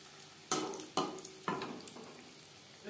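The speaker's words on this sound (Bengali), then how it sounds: "চপ ক্রিস্পি করে ভেজে নেব।" Egg devil chops deep-fry until crispy, with three sharp bursts of sizzling spaced about half a second apart over a quiet bubbling of oil.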